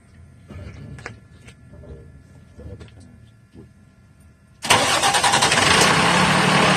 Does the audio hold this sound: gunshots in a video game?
no